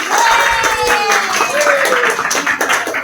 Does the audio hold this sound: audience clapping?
yes